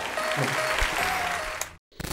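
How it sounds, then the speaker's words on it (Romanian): Steady clapping from a small studio podcast audience, even and continuous, then a brief silence before faint sounds resume. "Aplauze, Ciucă."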